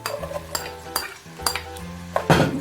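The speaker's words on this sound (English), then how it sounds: "into that we're going to add in sliced onions and chili" Utensils scrape and clink against a pan while sliced onions and chili fry in hot oil. A soft sizzle builds at the end as the stirring continues.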